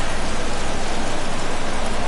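Heavy rain in a sim racing game at the Zolder circuit, a dense, loud, unbroken hiss of rainfall with no other sounds standing out.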